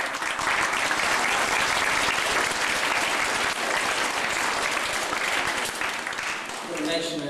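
Sustained audience applause fills the hall, a thick, continuous wash of many clapping hands at a steady loudness, easing slightly near the end as a few faint voices come through.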